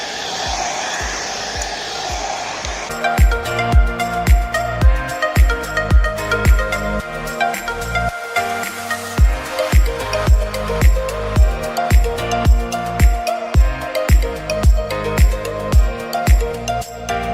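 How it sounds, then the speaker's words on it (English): A hair dryer hums with a steady airy whoosh as a wig is blown out with a brush, soon joined by loud rhythmic music with a thumping beat playing over it. "I'm just going to use my brush and my hand dryer"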